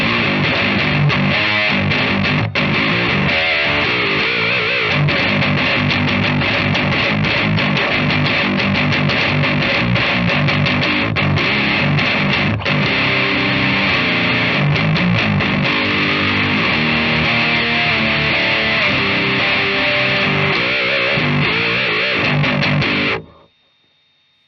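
An electric guitar played through heavy distortion, with deliberately added unwanted frequencies and a steady hiss, plays loud, continuous chugging riffs for over twenty seconds before cutting off abruptly.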